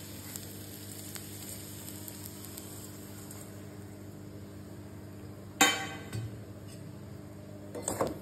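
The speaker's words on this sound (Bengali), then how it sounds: "পুরো মশলাটাকে একটু ভাজবো" A spice mixture frying in a pan for chana dal paratha filling gives a quiet steady sizzle with a constant hum underneath, broken by a sharp utensil clink partway and a few scraping stirs near the end, no talking.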